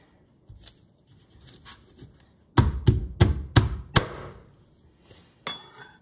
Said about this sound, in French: Je vais déjà couper les parties abîmées.